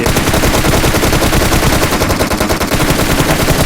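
Sustained automatic fire from an M416 rifle in PUBG Mobile on the Erangel map, loud and continuous bursts of rapid shots running the whole stretch with only a brief dip in the middle.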